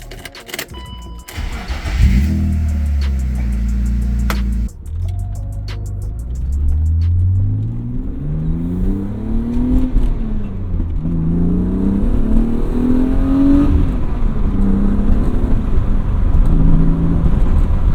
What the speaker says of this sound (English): the induction noise is way louder, way louder, and it's very throaty.